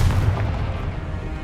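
The Confringo blast spell in Hogwarts Legacy lands as a deep, heavy boom with a low rumbling tail that fades over about a second.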